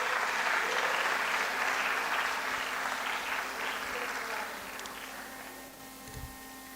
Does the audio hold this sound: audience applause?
yes